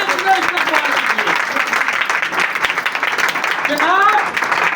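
Church congregation at a Pentecost service applauding, a dense, loud, continuous wash of clapping from a large crowd, with voices calling out over it.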